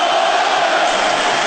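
Hockey fans at a 2002 NHL playoff game between the Maple Leafs and Islanders on Long Island chanting "Let's go Islanders," a loud, dense roar of many voices filling the arena without a break.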